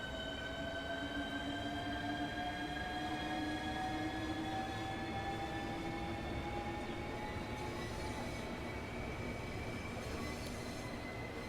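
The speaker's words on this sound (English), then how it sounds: "The train also does have different running sounds now." A Southeastern high speed electric train running on a third rail in Train Sim World 2 hums with rising whining motor tones over a constant rolling rumble, loud and steady throughout.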